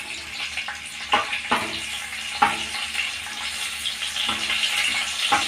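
Chanda fish frying in a pan gives a soft, steady sizzle with several sharper clatters and splashes scattered through it, close by and without speech.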